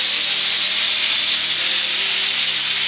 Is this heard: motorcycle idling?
no